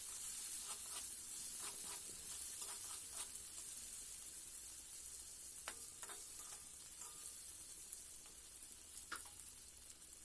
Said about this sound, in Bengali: সরষের তেলের মধ্যে ফুলকপিগুলো দিয়ে তার ওপর হলুদ আর লবণ দিয়ে ভালোভাবে ফুলকপিটাকে লাল লাল করে ভেজে নেব।